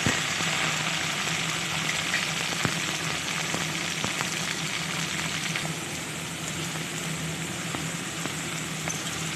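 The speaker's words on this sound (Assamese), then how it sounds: "আৰু পিঁয়াজখিনি অলপ ৰঙচুৱা হোৱাৰ পাছত ইয়াতে মই কেঁচা মটৰকণ দিছোঁ।" Raw green peas fry with lightly browned onions in a pan, a dense continuous sizzle that holds fairly loud and even throughout, with a faint low hum and occasional small clicks, no voices.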